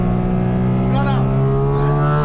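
A Porsche GT4 RS engine runs at full throttle on the Nordschleife, a loud sustained tonal roar climbing in pitch, with a voice partly over it.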